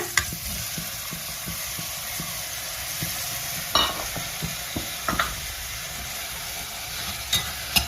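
Onion and chopped tomato sizzle steadily in a pan for a Basella leaf palya, with repeated scraping stirs and a few louder clanks of the spoon against the pan, close and alone without talk.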